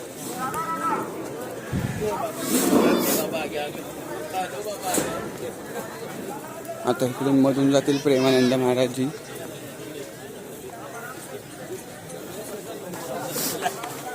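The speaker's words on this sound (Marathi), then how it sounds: "खूप जास्त गर्दी आहे." Large crowd packed into Nidhivan, Vrindavan, awaiting a guru's procession: a steady babble of many voices and shuffling, with one nearby voice speaking over it and a burst of louder chanting or calling partway through.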